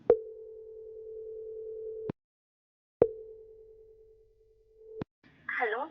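Phone line ringback tone while placing a call: two long, steady tones about two seconds each, separated by a silent pause, followed by a brief voice answering at the end.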